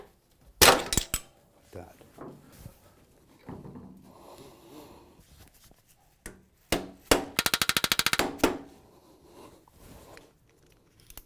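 Sharp metallic taps knocking a motorcycle exhaust clamp back into place on an R90/6, a few isolated hits then a quick rapid burst, close by, with a brief spoken remark between strikes.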